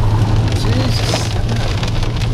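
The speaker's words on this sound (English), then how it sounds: "Have you ever seen rain like it?" Heavy rain pours down during a July flood, a dense, loud hiss of water drumming on a surface, heard from inside a moving car with a low engine rumble beneath it.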